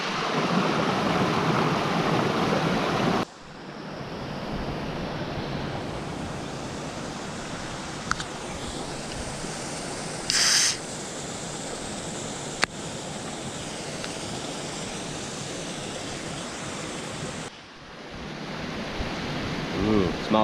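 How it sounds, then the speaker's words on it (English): Little Aber Falls in Snowdonia pours with a loud, continuous broadband rush heard close by, with steady gusts of wind over the microphone and a few faint clicks. "so this is Little Aber Falls, Rhaeadr Fach. Don't know if you can hear me because it's quite loud."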